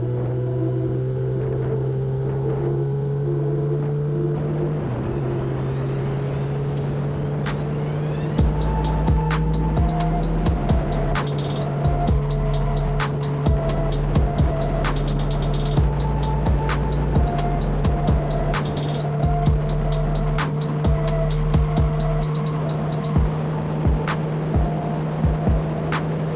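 A Kawasaki ZX10R motorcycle on a night ride gives a steady engine drone with a low hum. Midway, repeated sharp clicks and ticks start up over the running engine and continue to the end.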